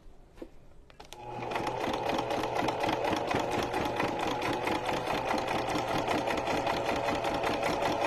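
Sewing machine stitching a recycled Amazon bag into a junk journal cover: after a few faint clicks, a loud, rapid, even motor chatter starts and runs on without pause.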